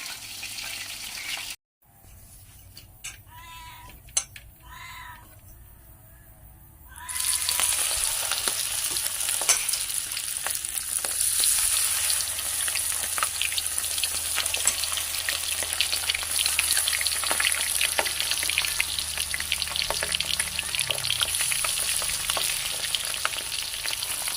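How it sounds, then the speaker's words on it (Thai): Shrimp deep-frying in a pan of hot oil for a Thai three-flavor shrimp dish, giving a loud, steady, dense sizzle and crackle that builds after a few quieter seconds of stirring and carries on without talk. "กุ้งทอดเสร็จแล้วจ้า"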